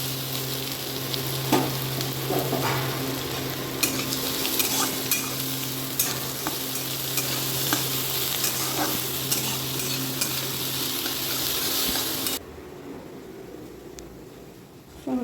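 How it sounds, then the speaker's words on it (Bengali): Onion and bay leaves sizzle loudly in a hot pan while being stirred, a steady close frying hiss with occasional scraping that drops away abruptly near the end. "দুটো তেজপাতা পেঁয়াজটা দিয়ে"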